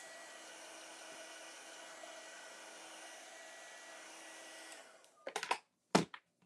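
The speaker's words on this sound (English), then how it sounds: "Everybody else use the dryer, so I'm going to just start using the dryer" A hair dryer runs steadily for nearly five seconds while drying a Halloween-style craft project, a constant airy whir that cuts off and gives way to a few sharp handling clunks and knocks.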